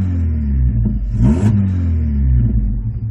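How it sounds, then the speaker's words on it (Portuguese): A 2005 Volkswagen Golf with a straight-through exhaust and a large tailpipe tip revs hard up close, its loud, throaty engine note rising and falling through a quick blip with no talking. "Ele tá berrando demais, porque tá com o escape direto, né?"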